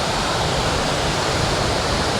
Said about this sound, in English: it is a beautiful waterfall